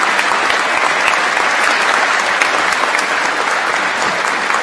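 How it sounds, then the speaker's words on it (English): A college of engineering commencement crowd applauds the faculty, the clapping loud, dense and sustained from start to finish and filling a large hall, with no voices heard above it. "as we give them a round of applause to thank them for their hard work and dedication"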